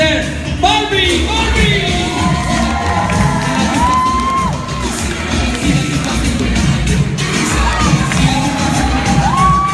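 A crowd in Cuba cheers, whoops and shouts for Mr. Barbie, loud and continuous with high excited voices and children yelling over a dense roar of clapping.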